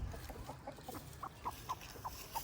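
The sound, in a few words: hen clucking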